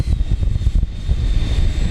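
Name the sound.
radio-controlled jet plane taxiing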